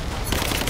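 Rapid automatic gunfire from Rise of the Tomb Raider gameplay, a short, loud, continuous burst of shots filling the moment up close.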